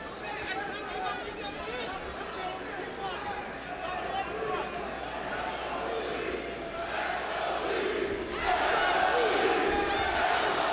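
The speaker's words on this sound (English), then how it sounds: "the crowd cheer from around the Mandalay Bay as again they target the body area" Crowd at a Las Vegas boxing match in the Mandalay Bay arena roars in a sustained, dense wash of cheering and shouts that swells louder toward the end, with a commentator talking over it.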